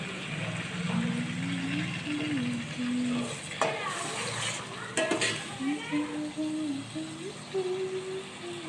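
Vegetables and masala for pulao are stirred in a cooking pot, with steady scraping and a soft sizzle running throughout and a faint voice in the background.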